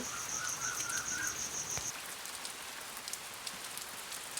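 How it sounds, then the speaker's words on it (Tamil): Heavy rain pours down in a steady, dense hiss on a hillside hut at night, with a thin insect chirp over it for the first couple of seconds. "மழை நல்லா அடிச்சு ஊற்றிக்கிட்டு இருந்தது"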